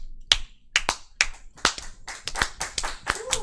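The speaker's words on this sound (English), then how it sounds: "Everyone's clapping for me" Scattered claps from a small group at a fire and flow arts livestream, a handful of sharp, uneven hand claps spaced irregularly and fairly close, with little else around them.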